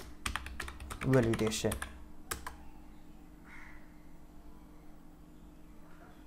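Quick clatter of keystrokes on a computer keyboard while entering a search in coding documentation, a short burst of typing followed by a single tap, with brief speech and quiet room tone afterward.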